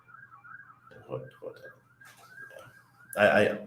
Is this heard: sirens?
yes